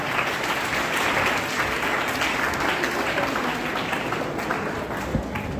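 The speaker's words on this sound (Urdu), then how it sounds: "میں چاہتا ہوں کہ زوردار تالیوں سے آپ ان کا مبارکباد" An audience at a school event claps loudly and continuously, a dense, sustained roar of many hands that stays even throughout without a pause.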